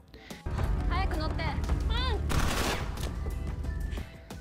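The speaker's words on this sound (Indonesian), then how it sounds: "Sambil terus diberondong, mereka masuk ke dalam mobil milik Tata dan An." Gunfire in a scene from the Alice in Borderland drama: sharp bursts of shots and thuds alongside voices, loud and close, with the firing spread across the whole stretch.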